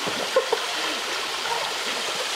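Water rushes steadily at Tubas Falls, a continuous broadband hiss of the waterfall and stream close by, with a couple of faint splashes.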